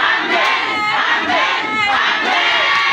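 A church congregation cheers and shouts in acclaim, loud and sustained, with many voices rising together in a few joyful swells across the whole stretch.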